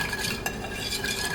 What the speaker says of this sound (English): now you're going to need a whisk and just whisk everything together